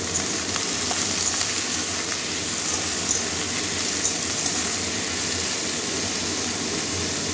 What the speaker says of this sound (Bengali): এবারে দিয়ে রাখা কুমড়ো আলু কাঁকরোল দিয়ে দিচ্ছি।